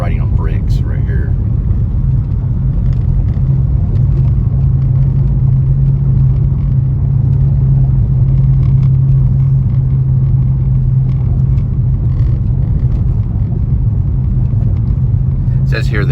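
A car rolls over a brick-paved street on Camp Bowie near the cultural district, giving a steady, loud low rumble from tires and engine that holds evenly throughout, with faint ticks and clatter above it.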